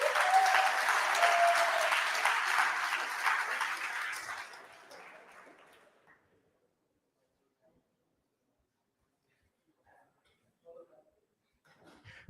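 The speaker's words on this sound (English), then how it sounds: "please give him a nice round of applause" A NixCon Paris 2022 conference audience claps for a speaker taking the stage: full, even applause for about four seconds, then tapering off into near silence with a few faint stray noises.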